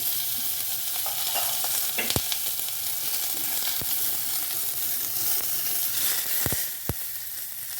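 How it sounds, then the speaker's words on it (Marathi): Onion frying in a hot wok (kadhai) gives a steady sizzle, with a few sharp clicks of stirring scattered through it and no voices. "मग कढई गरम करायला ठेवले त्याच्यामध्ये आपण कांदा भाजून घेऊया"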